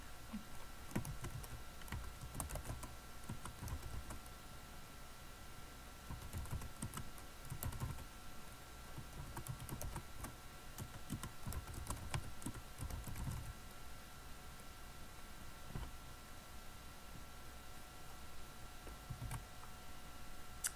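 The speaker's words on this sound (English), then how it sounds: "I'm going to change my font and I'm ready to type." Steady typing on a computer keyboard, with a continuous run of close, quick keystroke clicks over a faint background hum and no talking.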